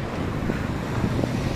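Gusty wind buffets the microphone outdoors during a walk toward a boarding area, a steady low rumbling roar that fills the whole clip with no voices heard.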